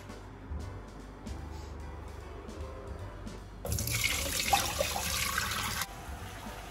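Tap water pours into a cooking pot in a home kitchen, a steady close rush that starts suddenly partway through and stops abruptly near the end, after quieter kitchen sounds.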